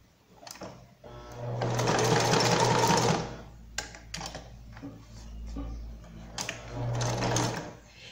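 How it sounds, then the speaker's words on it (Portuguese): A sewing machine stitches velcro onto a bandana collar in two bursts of steady mechanical whirring, with clicks and handling noises in the pauses between and someone talking quietly over it. "ponho o velcro aqui e passo uma costura aqui"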